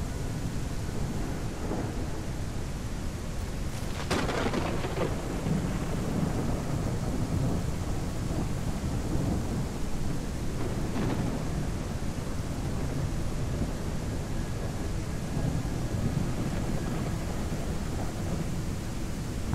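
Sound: thunderstorm in The Isle Evrima video game

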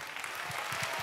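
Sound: applause

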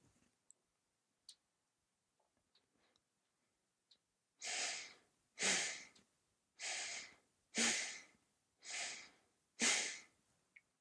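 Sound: belly breathing demonstration

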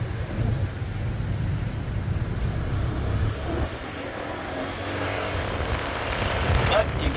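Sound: motorbike riding through Bangkok traffic

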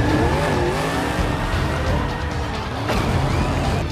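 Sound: toy race car sound

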